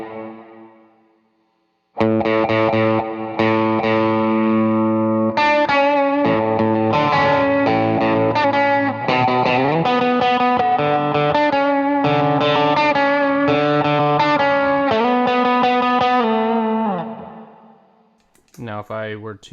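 Electric guitar riff played through an effects pedalboard with gain, chorus and distortion tones, a steady run of ringing sustained notes and chords that starts after a short pause and fades near the end, then a brief restart.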